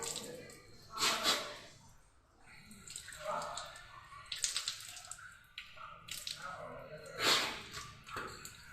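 Water splashing and trickling in short bursts as it is drawn into the nose during wudu ablution, with quieter drips between, close by and moderately loud.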